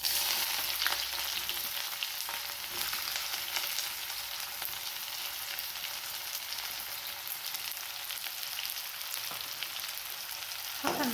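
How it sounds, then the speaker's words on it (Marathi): Chopped onion sizzles steadily in hot ghee with cumin and mustard seeds, a dense, loud, continuous frying hiss with occasional pops and stirring scrapes throughout. "हा कांदा आपल्याला भाजून घ्यायचा आहे"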